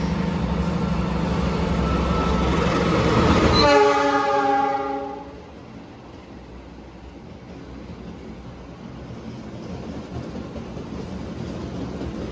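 A passenger train horn blares loudly with harmonic tones, then cuts off, leaving the rumble of rail cars rolling steadily past nearby through a station.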